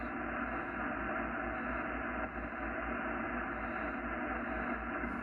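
A Yaesu FTDX-10 amateur radio receiver gives its noise floor as a steady, even hiss of static that holds unchanged and fills the whole stretch, with no voices.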